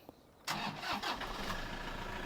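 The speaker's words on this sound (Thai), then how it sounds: "เดี๋ยวสตาร์ทเครื่องแล้วก็มาฟังเสียงคุณผู้ชม" A 2012 Toyota Vigo Champ Smart Cab 2.5E pickup truck engine cranks and catches with a sudden roar, then settles into a steady, fairly close mid-pitched idle.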